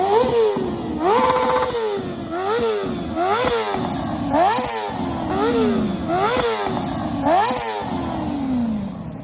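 A Kawasaki ZX-10R sport bike riding close by, its engine revving up and dropping back in rapid repeated gear-shift cycles, loud and steady throughout.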